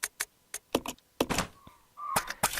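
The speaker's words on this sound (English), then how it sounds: "Those crows, man, they're really going at it out there, aren't they?" Crows caw in Resident Evil HD Remaster, a series of harsh, separate calls, some close and loud, with brief pauses between them and a few dull knocks mixed in.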